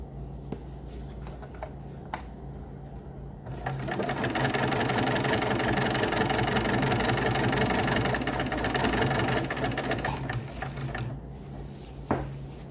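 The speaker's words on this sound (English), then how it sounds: "we are going to sew right up to that first" Sewing machine stitching a down throw underquilt, with a steady mechanical whir and rapid needle rhythm that starts after a few quiet seconds, holds for about seven seconds at moderate volume, then slows to a stop with a few clicks.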